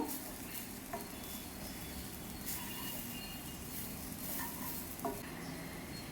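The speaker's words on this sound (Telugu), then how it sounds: "మీడియం ఫ్లేమ్లో పెట్టేసి ఫ్రై చేసుకోవాలండి." Coconut burelu, sweet Telugu fritters, frying in oil over a medium flame, giving a steady low sizzle with occasional soft stirring clinks and faint background chirps, no talking.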